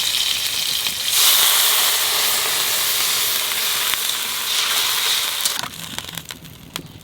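Water is poured into hot oil with black cumin seeds and green chilies, setting off a loud burst of hissing, crackling steam that holds for several seconds before dying down, with no talking.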